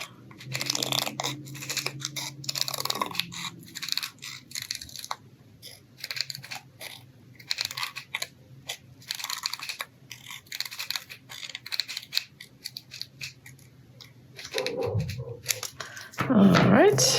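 Scissors cut a small paper piece out for a flip-out pocket scrapbook page, giving repeated close crunchy snips and rustling paper, with some handling noise toward the end.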